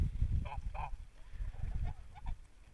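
Domestic geese honk outdoors on a light covering of snow beside a pond, several nasal calls in short pairs over a steady low rumble, fairly distant and quiet with no one speaking.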